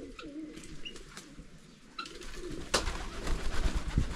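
Pigeons or doves cooing outdoors around a rural home, soft repeated low coos at moderate distance amid light ambient noise and a few brief chirps.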